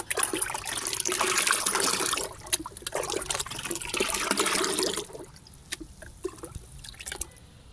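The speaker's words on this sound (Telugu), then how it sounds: "ఈ బకెట్ నిండా వాటర్ తీసుకొని" Water pouring into a bucket for a liquid plant fertilizer mix, a close, splashing rush that runs in two long bursts, then thins to scattered trickles and drips.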